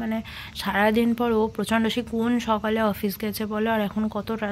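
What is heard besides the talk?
No distinct noise like a dog, phone or traffic.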